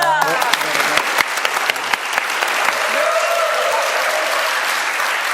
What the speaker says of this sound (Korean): 담임 목사님 퇴장하실 때 이렇게 또 박수 쳐주시는